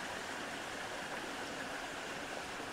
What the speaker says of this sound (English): we got the little waterfall to ourselves, which is super nice